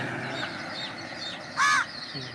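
Crows caw beside a bypass road, with one loud, harsh caw close by near the end and fainter calls earlier over steady outdoor background noise.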